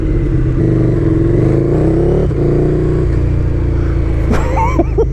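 A KTM Superduke 1290R motorcycle accelerates loudly and close, its engine note climbing steadily through gears with brief dips at shifts and heavy wind noise over the ride.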